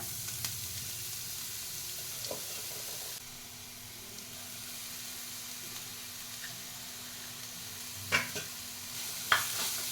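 Grated carrot sautés in ghee for carrot halwa, giving a soft, steady sizzle throughout with a couple of sharper spatula scrapes near the end.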